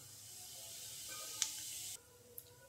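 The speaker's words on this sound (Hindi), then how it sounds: "तेल हमारा अच्छी तरीके से गर्म हो गया। अब इसमें डालेंगे हम जीरा," Cumin seeds hit hot mustard oil and sizzle as a soft, steady hiss, with a faint crackle midway; the hiss drops abruptly and a small pop follows.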